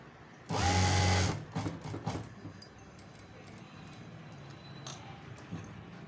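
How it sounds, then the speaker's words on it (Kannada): A sewing machine runs in one loud, steady burst while stitching a pot neck on blouse fabric, followed by a few shorter mechanical clicks and soft handling noises. "ಸೊ ನೋಡಿ ಇಲ್ಲಿ ಸೆಂಟರಲ್ಲಿ ಸ್ಟಿಚ್ ಹಾಕ್ಕೊಂಡಿದ್ದೀನಿ"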